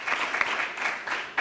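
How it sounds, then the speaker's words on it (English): Audience applause at the close of a roundtable session at a project's final event in Seville, steady clapping from a sizeable room lasting throughout with no speech over it. "a round of applause to you all for your participation"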